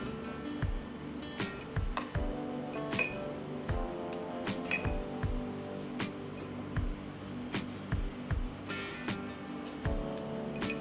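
Whole apricots drop one by one into clean sterilized glass jars, each landing with a bright clink, about a dozen evenly spaced taps under a quiet room background.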